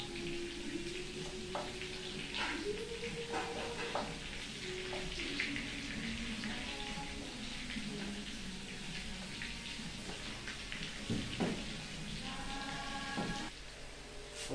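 Chicken breast fries in a pan with a steady, even sizzle and crackle that holds at a constant level for the whole stretch, with no talking over it.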